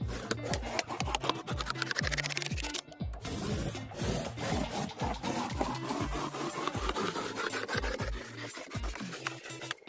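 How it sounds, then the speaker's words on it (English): Chipboard from a cereal box is cut into strips along a ruler, giving a steady run of rapid scratchy rasping strokes, close and fairly quiet, with no voices. "using a ruler, mark and cut lines every half centimeter or 3/8 inch"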